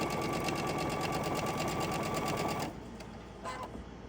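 A sewing machine runs fast and steady, stitching a mini quilt with a dense, even whir that continues for most of the clip, then cuts off, leaving quieter handling sounds.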